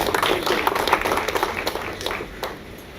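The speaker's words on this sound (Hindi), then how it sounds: "स्पेशल तालियां हैं।" Dense audience applause at a TV serial launch event, steady and fairly loud for several seconds, with scattered sharper claps standing out over a continuous wash of clapping.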